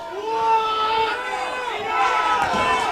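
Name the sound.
soccer crowd reacting in disagreement with the linesman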